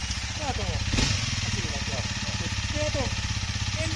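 A 2021 Honda CRF250L (MD47) off-road motorcycle engine runs with a steady low idle throb throughout, close by, while people talk over it.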